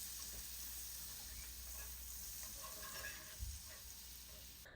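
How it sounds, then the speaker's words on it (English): Butter melts in a hot cast iron skillet on a stovetop turned down low, giving a steady, soft, continuous sizzle and hiss with a brief low knock partway through and no voices. "I'm going to add some butter to the pan, and I don't want the butter to brown"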